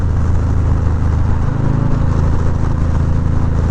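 A Harley-Davidson Low Rider S heard from the saddle while riding, a steady low engine rumble mixed with rushing wind, loud and close throughout with no one speaking.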